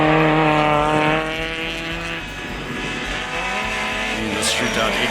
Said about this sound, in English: Jean and Taron van Rooyen, no match to the rear-wheel drive power of the BMW